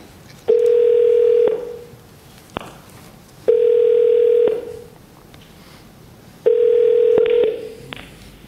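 A telephone line signal while a call is placed to a prize laureate at a press conference: three clear, loud one-second tones repeating at regular intervals with quiet gaps between.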